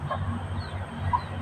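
Chickens cluck faintly from a few close points, short soft calls rising over a steady low background hum.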